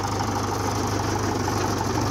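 Mahindra 575DI tractor engine hauling a trolley loaded with bricks, a steady loud diesel chug with a rhythmic low throb, close by, with no talk.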